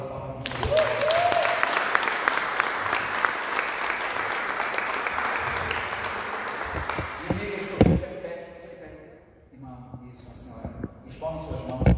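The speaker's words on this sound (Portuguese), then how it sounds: "Dá uma salva de palmas" A church congregation breaks into sustained, loud applause, with voices mixed in. It fades over the second half, and scattered claps and thumps follow near the end.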